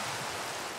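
Rain falls in the Minecraft modpack SevTech Ages video game as a steady, even hiss that fills the whole moment, with no voices.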